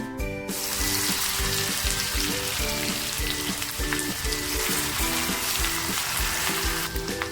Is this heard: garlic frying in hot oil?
yes